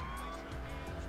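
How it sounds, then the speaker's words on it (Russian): A police car drifting in GTA IV, its engine droning steadily under a sustained tire squeal, close and continuous through a brief moment. "Потому что она не по-детски дрифтит у нас."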